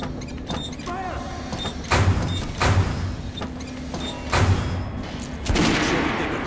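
Sharp gunshots ring out at the shooting range in the video game Metro Redux, several separate loud reports spaced a second or so apart over a steady hum, with a voice briefly heard.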